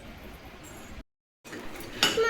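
Toy kitchen-set utensils clink as they are packed into a cloth bag. A quiet rustle drops into a moment of silence, then a brief, bright metallic clatter of small pots and pans sounds close by.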